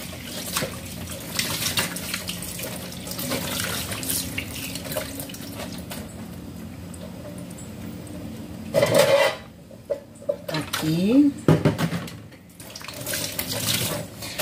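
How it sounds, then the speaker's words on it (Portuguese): Water runs steadily from a kitchen tap while a cutting board is rinsed beneath it, with a few louder splashes and knocks of the board near the end and no talking. "Lavei aqui a tábua pra tirar a sujeirinha, né?"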